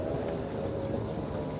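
A boat riding high in the water moves along with a steady, even engine drone and broadband wash, moderately close and continuous with no talk.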